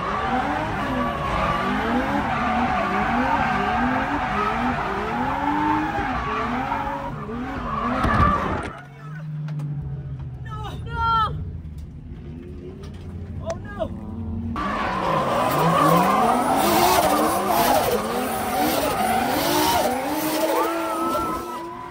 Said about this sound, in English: You guys ready to go drift?